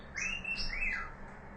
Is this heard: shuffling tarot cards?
no